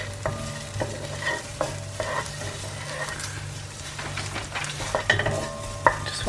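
Onion softening in a hot pan with mustard, cooked for curried mussels: a soft, continuous sizzle broken by stirring scrapes and a few sharper knocks of the spoon against the pan.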